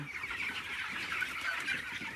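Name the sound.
poultry chickens in a farm shed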